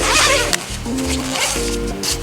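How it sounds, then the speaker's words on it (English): A zipper on an Alpinestars Tech Air 5 airbag vest is pulled open in several quick, close rasping strokes with brief pauses between them. "it's a zipper that goes around"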